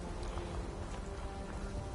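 Rain falls steadily in the video game Fallout 4, a soft continuous patter of drops on surfaces with low rumbling underneath, faint and unbroken.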